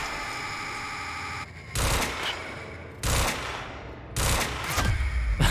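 Gunfire in the video game Quantum Break, several loud bursts of shots with short gaps between them, over a steady humming game background with no talk.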